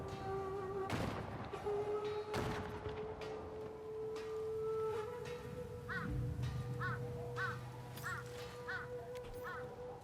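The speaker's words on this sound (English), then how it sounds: "Gunfire." Two sharp musket shots crack out early in the scene from the video game Ghost of Yotei, with cawing crows and a steady ambient hum continuing afterward.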